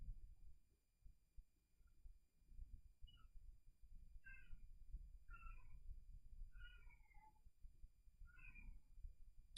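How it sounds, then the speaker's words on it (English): A house cat meows about five times in a row, short rising cries spaced a second or so apart, faint and distant over low room rumble. "we've got the cat meowing"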